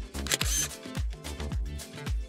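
A camera shutter snaps a selfie at a throne inside the Evike.com superstore, clicking four times in quick, evenly spaced succession, close and fairly crisp.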